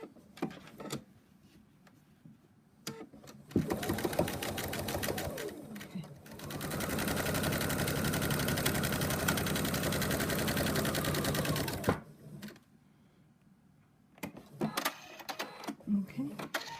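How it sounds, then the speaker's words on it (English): Sewing machine stitching fabric binding onto a cat paw-print quilt project, with two bursts of rapid mechanical whirring, a short one and then a longer steady run, framed by quiet handling noises and a person speaking before and after. "And now we're just going to continue sewing it onto here."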